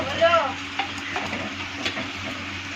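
Dal poured into hot tempering with curry leaves for sambar, a close sizzling hiss with stirring and light utensil clinks, steady and loud throughout.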